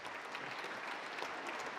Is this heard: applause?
yes